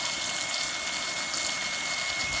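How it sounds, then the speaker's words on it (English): Hot tap water pours steadily and loudly into a pan, a continuous hissing rush with no breaks. "Fixing to put me some water in here. Turn it on."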